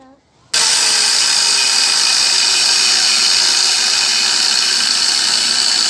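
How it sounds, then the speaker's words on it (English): A grinder starts abruptly after a brief quiet moment, then screams loudly and steadily with a high, harsh metallic whine as it cuts around the casing of a 30 kg air conditioner compressor. "we're going to get the grinder, and we're going to cut this one end all the way around"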